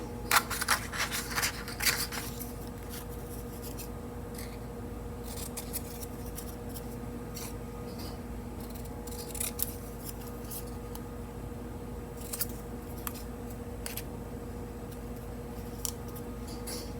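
Scissors cut through linen paper in quick snips clustered at the start, then sparse isolated snips over a steady low hum, close and fairly quiet with no talking.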